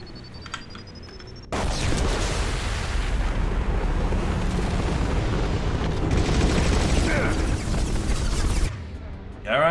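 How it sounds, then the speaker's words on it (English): A loud explosion in Mass Effect 2 erupts after a quiet opening, a dense roaring blast that holds for several seconds before cutting off abruptly. "Impending explosion."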